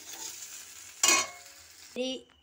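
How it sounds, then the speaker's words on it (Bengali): Chopped onions drop into a hot wok (kadai) and fry, a sharp burst of sizzling followed by a steady low crackle and a brief metallic scrape near the end. "এই কড়ার মধ্যেই আমি এবার পেঁয়াজ কুচিটা দিয়ে দিচ্ছি, পেঁয়াজগুলোকে ভেজে নেব"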